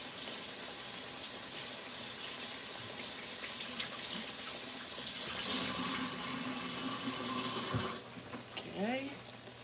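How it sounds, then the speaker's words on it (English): Water runs steadily from a kitchen tap during handwashing, a broadband gushing wash that swells louder partway through, then drops off with a clatter as a voice comes in at the end. "Let me wash my hands."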